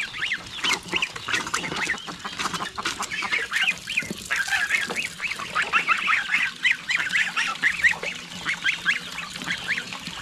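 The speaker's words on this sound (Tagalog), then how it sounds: "Yung mga gansa natin oh," Geese honking continuously near water on a farm, a busy flock of overlapping nasal calls, close and fairly loud.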